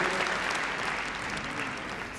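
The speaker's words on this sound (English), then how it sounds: "Give him a big round of applause, please." Audience applause in the arena at the Crufts 2010 dog show, following a gundog display: steady, dense clapping from a large crowd that holds at an even level for about two seconds.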